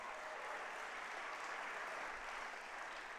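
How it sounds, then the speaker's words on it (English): An awards ceremony audience applauding, a dense, even wash of clapping held at a steady level throughout, faint and distant with no voices. "You can clap for that."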